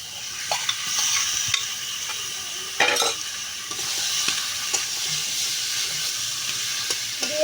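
Meat is stir-fried in oil with chili powder, a close, steady sizzle and hiss broken by scraping stirs and occasional clinks of a utensil against the pan.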